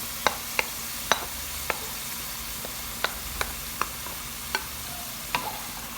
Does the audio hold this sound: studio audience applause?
no